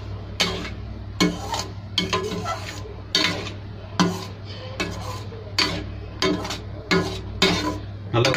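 A spoon scrapes and clatters against a pot of boiling milk for payasam in repeated strokes, about once a second, over a steady low hum from the stove.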